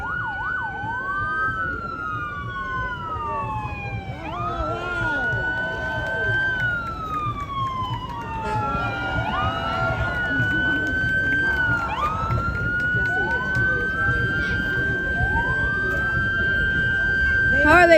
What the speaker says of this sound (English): How are they just using their sirens?